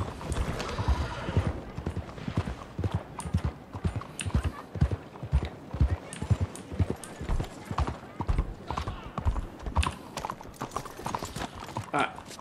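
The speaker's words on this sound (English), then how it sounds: "Giddy up. I am giddying up." Horse hooves clip-clop at a steady gallop in the Western video game Red Dead Online, close and loud, with a few whinnies and a voice talking over the rhythm.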